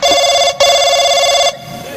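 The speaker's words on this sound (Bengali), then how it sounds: "এই ফোন আইলো কার" Loud, close telephone ringing in two electronic bursts separated by a short gap, stopping near the end, with a brief voice afterward.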